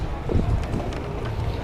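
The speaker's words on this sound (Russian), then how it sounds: "Дует ветерочек, и он его прохладным никак не назовешь." Warm night wind in Alanya during a heatwave blows steadily with gusty rushing noise buffeting the microphone, close and continuous, with no one speaking.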